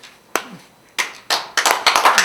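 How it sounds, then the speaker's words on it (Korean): Scattered hand claps start sparse and separate, then quicken into a small burst of clapping from a few people nearby at a lecture. "수고하셨다고 박수를 쳐주시기를 바랍니다"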